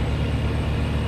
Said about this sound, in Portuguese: A gente usa o freio a ar